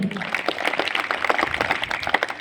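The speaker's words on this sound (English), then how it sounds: "Clap for him." Students in a school classroom clapping together during an English-language morning assembly quiz, a steady dense patter of hand claps filling the moment with no talking.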